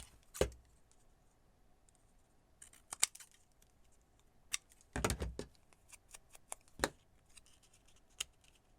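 Scissors cutting paper for a junk journal, a handful of sharp separate snips spaced irregularly over several seconds, close and crisp in a quiet room without talk.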